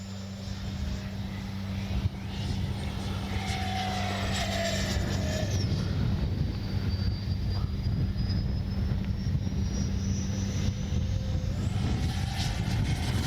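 A Freewing Zeus 6S 90mm electric ducted-fan RC sport jet flies overhead, a continuous whining roar with a steady low hum, its pitch sweeping as it passes and climbs.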